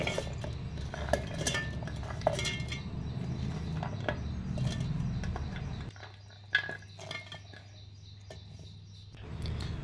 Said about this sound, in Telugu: వీటిని మనం జార్లోకి ట్రాన్స్ఫర్ చేసుకుందాం